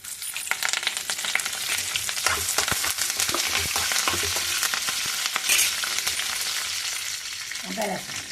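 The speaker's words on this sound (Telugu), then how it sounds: "ఇప్పుడు తాలింపేస్తున్నాను." Tempering for a brinjal and peanut masala fry sizzles and crackles in hot oil, with dense popping and spluttering throughout and a few clinks of a utensil stirring the pan.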